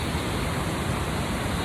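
A small cascade on a hiking trail, a short way ahead of the main waterfall, roaring close by as a dense, even broadband rush of falling water with no pauses and no voices.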